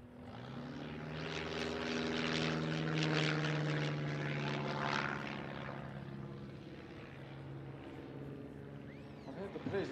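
A de Havilland Tiger Moth biplane flying an aerobatic display drones steadily with a propeller engine, swelling and fading as it passes, while a commentator talks over it.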